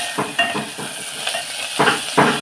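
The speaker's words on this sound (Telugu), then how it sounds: "గోల్డెన్ బ్రౌన్ వచ్చే వరకు ఫ్రై చేసుకోండి." Food fries in a pan toward golden brown, soft sizzling beneath a string of quick scraping stirs that come in short bursts, close and fairly loud, with no voices.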